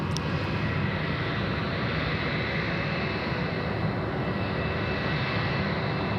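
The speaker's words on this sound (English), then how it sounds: "We've got a Jetstar to land." Jetstar airliner landing at Sydney Airport, a steady broad engine roar that holds loud and constant throughout, with no voices over it.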